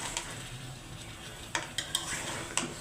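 Ash gourd and other vegetables sautéed in a pan, a low steady sizzle with a few sharp utensil taps and scrapes against the pan; no one speaks.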